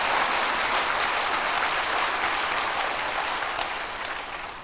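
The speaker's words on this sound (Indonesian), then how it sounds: "Berikan tepuk tangan buat Tuhan." A church congregation claps together for God during a worship service, a dense, steady wash of many hands that fills the room and fades slightly toward the end, with no voices over it.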